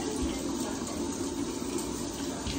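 Tap water running steadily while hair is washed with shampoo and leave-in conditioner. A loud, continuous splashing stream fills the whole stretch without pause, and no voices are heard.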